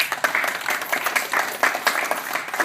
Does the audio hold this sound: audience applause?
yes